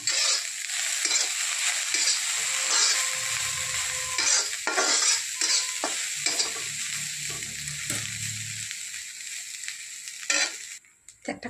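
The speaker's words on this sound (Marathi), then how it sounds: "एकदम कोरडं होईपर्यंत आपल्याला छानसं भाजून घ्यायचं आहे" Dried fish (sukat) roasting dry in a pan with chilli and curry leaves, a loud continuous sizzle and crackle with scraping stirs of a utensil, ending in a few brief knocks.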